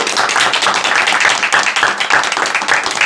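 Close, loud clapping from an audience opening a youth debate forum in Seoul, dense and continuous with individual claps standing out rhythmically throughout.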